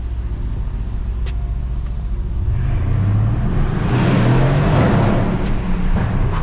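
A 500 bhp Mercedes-AMG GLC 63 S engine driving on a rainy road, a steady low rumble that swells louder partway through as it accelerates, heard from inside the cabin with no talking.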